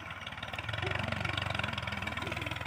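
A tractor engine runs in a field with a rapid, even low chugging pulse, moderately distant and steady.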